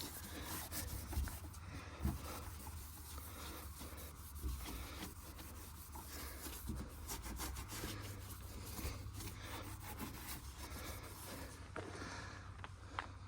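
A cloth scrubs and rubs at a rusty 1968 Case 155 garden tractor, wiping away penetrating oil and loosened rust in a steady series of close, scratchy strokes, with no talking.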